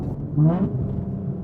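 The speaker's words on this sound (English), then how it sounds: "So I'm shifting from third to fourth, I'm shifting really slow" A 700 WHP 2023 Nissan Z engine revs briefly during a slow gear shift from third to fourth, a short rising whir over a steady car rumble.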